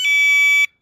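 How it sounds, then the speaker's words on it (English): A Harbor Freight wireless security alarm blares a loud, steady electronic tone for just over half a second, opening and closing with a brief chirp before it cuts off to silence. "they call it a wireless security system or security alarm"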